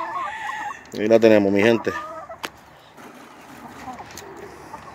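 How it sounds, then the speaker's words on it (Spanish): A chicken clucks loudly up close for about a second, followed by scattered softer clucks from a hen and a white rooster, with someone speaking briefly over the birds. "Tenemos al gallito blanco con ella."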